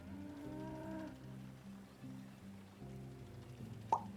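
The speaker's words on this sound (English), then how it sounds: "I think the fields are making cow noises" Cattle moo from field tiles in the video game Dorfromantik: several low, drawn-out calls follow one another at moderate volume, ending with a brief sharp click.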